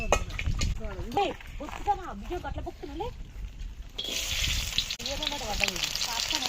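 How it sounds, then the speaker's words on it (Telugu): Liver frying in a pan outdoors, a soft sizzle and hiss under speech that grows louder and steadier near the end. "లివర్ వండుతున్నాం లివర్ ఫ్రై చేద్దాం"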